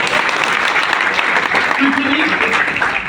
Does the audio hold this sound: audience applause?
yes